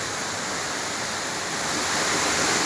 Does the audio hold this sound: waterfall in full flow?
yes